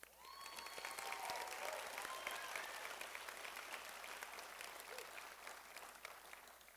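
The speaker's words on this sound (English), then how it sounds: "let's give a big round of applause to my fellow graduating class" An audience at a 2021 high school graduation ceremony applauds the graduating class in a dense, sustained round of clapping that swells and then slowly eases.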